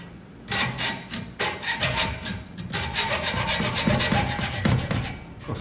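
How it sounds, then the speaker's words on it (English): A fine hacksaw rasps in short, repeated back-and-forth strokes against a seized steel brake line nut on a Chevy C10, close and fairly loud, with brief pauses between bursts of cutting. "So I got a real fine hacksaw here."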